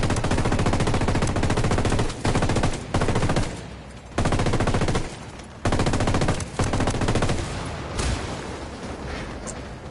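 Sustained automatic gunfire from the shooter game Ghost Recon Wildlands comes as loud, dense bursts of rapid shots, broken by short pauses, and the last few seconds fade into a quieter, echoing tail.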